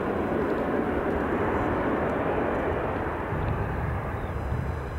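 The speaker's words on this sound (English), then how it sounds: "here is our Embraer 195 E2, operated by KLM, and on its way back to Amsterdam" A KLM Embraer 195 E2 jet at Edinburgh Airport, bound for Amsterdam, gives off a constant, moderately loud engine rumble that holds level throughout without voices.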